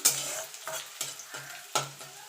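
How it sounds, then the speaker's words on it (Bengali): Potato, eggplant, bori and garlic frying in oil in a pan, with a continuous sizzle broken by five or six rhythmic stirring scrapes of a spatula, close up and clear. "এইভাবে আলু বেগুন বড়ি আর রসুন তেলে দিয়ে"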